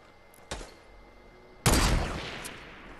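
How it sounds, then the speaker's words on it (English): Gunfire in Fortnite aimed at bushes: a single sharp shot, then a second louder burst about a second later that rings out and decays slowly, with no talking. "shooting random bushes now"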